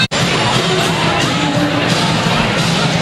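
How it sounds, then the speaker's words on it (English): A sellout crowd of over two thousand at a high school basketball game, Dothan against Northview. The gym is filled with a loud, dense, continuous roar of voices after one sharp bang at the start. "sellout crowd on hand tonight"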